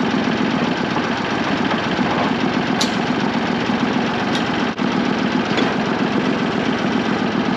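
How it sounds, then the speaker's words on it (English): A machine's engine runs at a steady, loud idle near a septic system work site, droning continuously without stopping and with only a faint break midway. "I forgot to fold down the seat that time and the engine didn't turn off"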